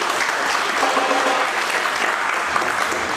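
An audience claps steadily and densely at a farewell ceremony, a full room of sustained applause at constant loudness from start to finish, with no talking over it.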